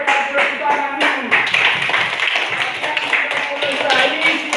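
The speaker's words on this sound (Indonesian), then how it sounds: "tepuk tangan dulu." A classroom of students clapping their hands together on the teacher's cue, a bright, busy patter of many hands close by, with voices talking over it.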